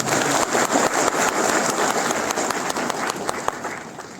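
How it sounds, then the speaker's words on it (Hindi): A crowd claps loudly at ORIEN's 14th Founding Day celebration, a thick, sustained burst of hands close by that tapers off slightly toward the end. "अच्छा इसके लिए एक बार जोरदार ताली बजा दो।"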